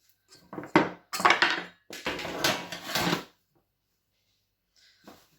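Clattering metal knocks and scrapes as a sheet pan is handled in a kitchen while making Irish soda bread, several close bursts of rattling in quick succession followed by a pause and one faint final clink.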